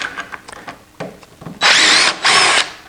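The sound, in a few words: power drill removing framing screws from a sawhorse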